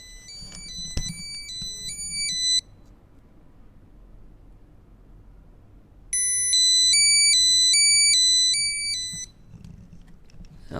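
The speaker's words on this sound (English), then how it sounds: "you just press the find and this device will sound the alarm, which is quite loud, about 90 dB." A Baseus T2 wireless anti-lost tracker sounds a loud, about 90 dB, high-pitched electronic alarm in rapid repeating beeping patterns, two bursts separated by a quiet pause with faint background rustle.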